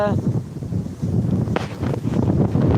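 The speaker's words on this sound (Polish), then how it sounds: "Ale wieje." Outdoor wind buffeting a microphone in a low, continuous rumble with gusty swells, close and fairly loud, while a voice murmurs briefly beneath it.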